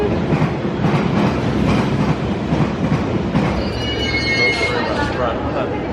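A London Underground train rumbles into the station and slows, wheels clattering and squealing faintly, with voices talking over the noise.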